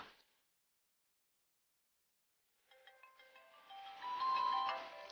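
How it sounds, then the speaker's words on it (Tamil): A phone ringtone plays after a short silence, a melodic electronic tune that starts moderately and swells louder toward the end, heard alone in a domestic drama scene. "யாரு போன் இது ஓயாம அடிச்சுக்கிட்டு இருக்கு?"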